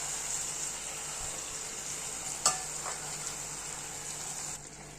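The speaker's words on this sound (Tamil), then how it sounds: "கூட்டுக்கு தேவையான தண்ணியை ஊற்றிக்கிறோம்." Water pours steadily into a cooking pot for a lentil curry over a soft, continuous sizzle, with a brief clink partway through and the flow easing off near the end.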